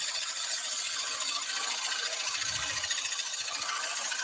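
A lathe tool's bevel rides along a spinning wooden platter during turning, giving a continuous hissing, slightly squealing rub that holds steady and close throughout, with no voices.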